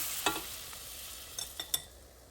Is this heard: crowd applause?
no